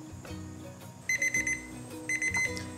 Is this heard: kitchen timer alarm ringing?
yes